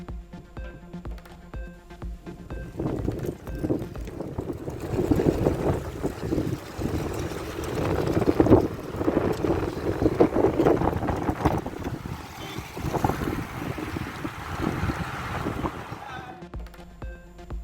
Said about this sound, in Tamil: 15 நிமிடத்திற்கு மேலாக சுழன்றடித்த சூறைக்காற்றின் வீடியோ காட்சிகள் வைரல்